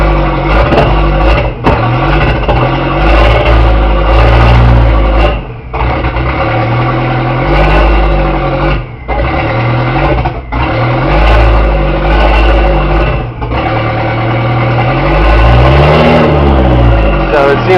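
A loud car engine with a holed, leaky exhaust idles and revs repeatedly, its rough, rattling exhaust roaring with each throttle blip, with a voice speaking over it.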